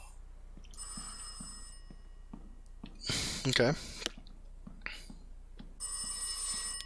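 In the horror game Rise of Insanity, a telephone rings in short bursts of bright electronic bell tones separated by quiet gaps, with soft clicks and a brief spoken word in between.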